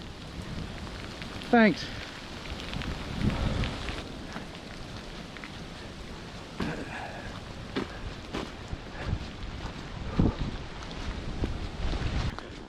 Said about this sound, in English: Just to round everything off, it's hailing.